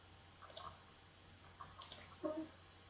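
A few faint computer mouse clicks during ArcMap work, small isolated ticks spaced apart over a quiet background hum.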